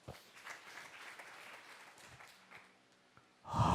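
A church congregation breaks into loud applause for Jesus, the clapping erupting abruptly near the end after a quieter stretch.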